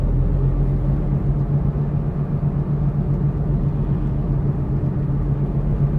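Steady low hum from a worn front wheel bearing inside a moving 2005 Smart ForFour, a constant drone under road rumble with no talking.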